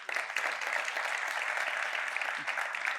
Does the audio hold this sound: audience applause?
yes